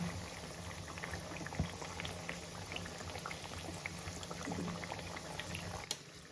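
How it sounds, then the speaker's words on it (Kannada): Chakli frying slowly in hot oil over a low flame, a steady soft bubbling and crackling that runs evenly throughout with a few small pops. "ಚಕ್ಲಿ ಚೆನ್ನಾಗಿ ಫ್ರೈ ಆಗ್ತಾ ಇದೆ. ಇದನ್ನು ಚಿಕ್ಕ ಉರಿ ಮೇಲೆ ಇದನ್ನು ಫ್ರೈ ಮಾಡಬೇಕು."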